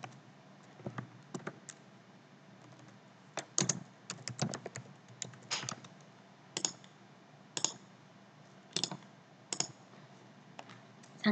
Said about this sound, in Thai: เราลองพิมพ์ไอเทม